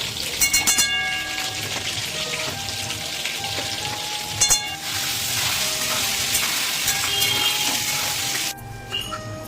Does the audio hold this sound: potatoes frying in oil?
yes